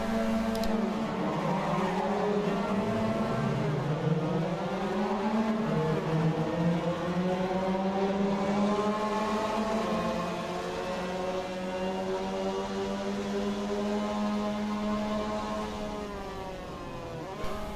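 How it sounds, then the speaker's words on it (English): Mazda MX5 Cup race cars revving on the grid at Suzuka Circuit in Assetto Corsa, a continuous layered engine drone from a field of cars whose pitches rise and waver together, loud and sustained with no talk. "The lights are coming on, the revving's about to start."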